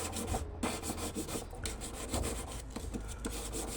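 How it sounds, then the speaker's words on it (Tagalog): Sandpaper rubbed over 18K yellow gold pearl jewelry to smooth away file marks, a steady close rasping scrape in quick repeated strokes with no speech. "Kailangan kasi paraanan ng liha yan para yung mga gasbang, yung mga tama ng kikil matanggal."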